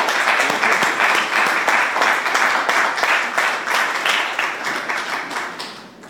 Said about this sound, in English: we ought to give our new speaker a big round of applause